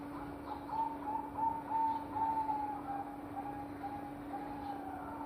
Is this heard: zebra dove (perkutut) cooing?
yes